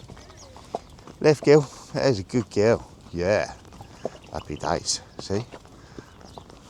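Horse hooves clip-clop at a steady walking pace on a countryside riding trek near Agadir, Morocco, with a rider talking over them throughout and speaking to the horse.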